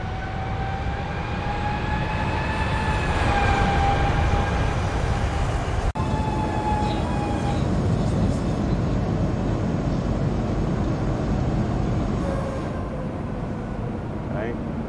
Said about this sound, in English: A little cheeky little flyby.